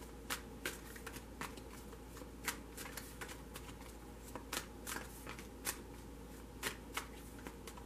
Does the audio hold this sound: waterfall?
no